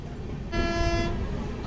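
A Vivek Superfast Express on the Dibrugarh–Kanyakumari run sounds a single steady horn blast of about half a second, moderately near, over the rumble of a moving train.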